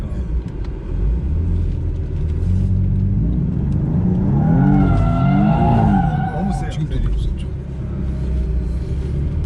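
A car drifting during a driving lesson, the engine revving steadily while the tires skid and squeal with a rising, warbling whine midway, and people talk throughout.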